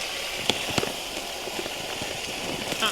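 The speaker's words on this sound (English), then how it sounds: "I'm giving our cats food. That's what that sound is, folks." Cat food is given to cats indoors, making quiet scattered crackles and small rattling ticks for about three seconds.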